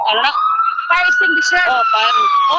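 A fire truck siren wails in a steady rising tone through most of the stretch, loud and close, while people talk over it.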